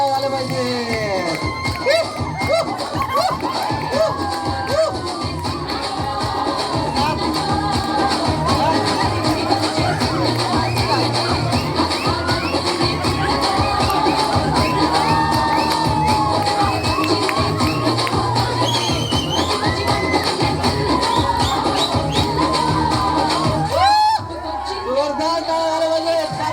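A crowd at a 2024 fashion show on Indian culture applauds and cheers loudly and steadily, with shouts and whistles mixed in. The noise cuts off briefly near the end and then returns.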